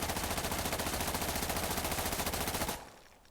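A rapid, evenly paced burst of full-auto rifle fire in the tactical shooter Insurgency Sandstorm rattles loud and close for nearly three seconds, then cuts off abruptly into a short fading tail.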